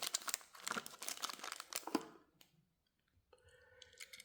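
Plastic packaging crinkling and clicking as a Tomica diecast car box is handled, a busy close rustle for about two seconds, then near silence and faint small clicks.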